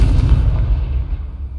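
Confringo fire spell blast in the Hogwarts Legacy video game, a single loud, deep booming explosion that rolls out and fades into a rumbling tail, heard alone.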